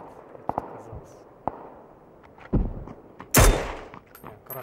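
Gunshots in the PUBG video game, a few scattered sharp cracks at varying distances followed by a louder, closer blast, with people talking over the gameplay.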